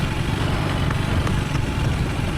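A Kawasaki Z900 motorcycle idling steadily, a continuous low engine rumble held close and even throughout, with no voices over it.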